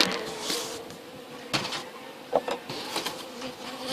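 A steady buzzing of a honeybee colony in horizontal hives outdoors, a mass of bees humming together, with a few louder close passes and light wind bumps, no voices.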